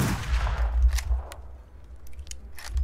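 Sharp rifle reports from a Hartford rifle in the Wild West shooter The Wild West: a loud close shot at the start, then several fainter single cracks spaced irregularly across the clip, over low rumbling background noise.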